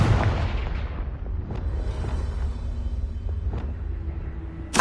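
The Confringo blasting spell explodes in the video game Hogwarts Legacy, a deep booming blast that rolls and fades over several seconds, with a few smaller thuds and a sharp burst right at the end.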